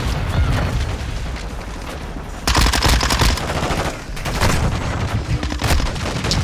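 A MINIBAK submachine gun firing in Call of Duty, loud rapid automatic bursts close up, a long rattling stream broken by a brief pause and then resuming in dense bursts.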